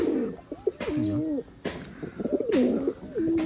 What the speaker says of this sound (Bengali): এই যে আমার একটা নাকটানা কবুতর